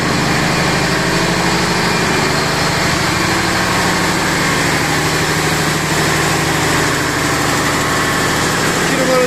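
A ship's generator engine runs in the engine room with a loud, steady, dense drone and mechanical vibration that holds constant from start to finish, with no break.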